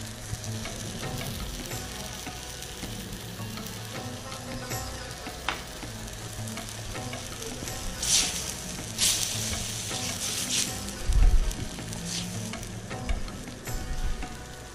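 Prawn curry sizzles and crackles steadily in a pan as it cooks slowly, a continuous close frying hiss with occasional louder bursts of spitting and no voices.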